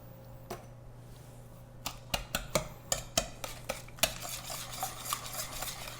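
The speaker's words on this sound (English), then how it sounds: "we're just gonna mix the wet ingredients really well" Wet muffin ingredients are mixed in a bowl, with a utensil clinking and scraping against the sides in a quick run of sharp taps that blur into a steady swishing stir.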